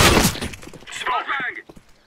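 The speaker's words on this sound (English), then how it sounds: "Throwing flashbang" A flashbang grenade is thrown in Counter-Strike during a competitive league match, with a sharp burst at the start followed by a high metallic ringing whine that fades out over about two seconds.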